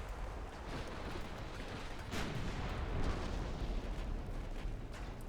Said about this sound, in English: Fire at the enemy with your stern guns.